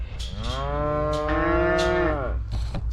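A young bull in a farm pen with heifers lets out one long, loud, close moo lasting most of the moment, with rainy spring weather around the cattle.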